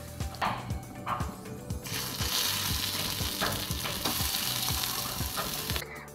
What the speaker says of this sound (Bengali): মাখা আলুটা ভালো করে কড়াতে নেড়ে নেড়ে ভেজে নেব